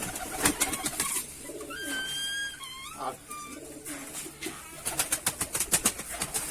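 Pigeons coo in soft, low rolling calls up close, with whistling tones and flurries of sharp clicking or wing sounds before and after.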